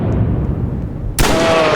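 A single sharp gunshot cracks loudly in a storm chasing video game, cutting in abruptly after a low rumbling ambience and ringing out with a broad tail.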